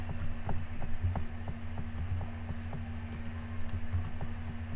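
Rapid, light clicks of a computer keyboard as Excel VBA code is typed, evenly spaced keystrokes over a steady electrical hum, with no talk.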